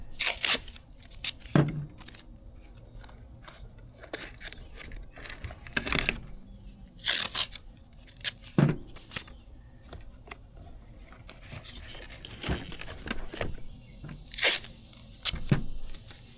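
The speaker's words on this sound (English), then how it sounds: "So I'm going to use some tape here just to kind of put pressure on these areas." Tape pulled and torn off during a tail light repair on an MK1 Rabbit makes several short, close ripping bursts spaced a few seconds apart, with quiet handling noises between them.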